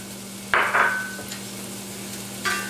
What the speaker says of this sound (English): then we're going to add our bacon to the pot